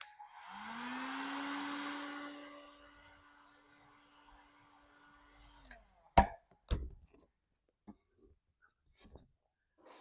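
A heating tool warms sticky residue on a thrift store item, a smooth blowing whir that rises and holds for several seconds, then cuts off and is followed by a few sharp knocks and clicks.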